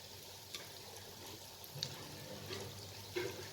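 Dahi kebabs frying in hot oil over a lowered gas flame, a steady soft sizzle with faint bubbling and a few small pops, close and even throughout.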